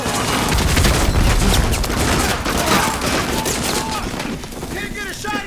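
Gunfire in the video game Call of Duty Modern Warfare 2, dense rapid bursts of shots and booms filling the scene loudly, with shouted voices mixed in.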